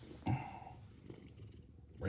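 A soft, low purring rumble runs through the clip, with a brief louder thump near the start and faint background sounds.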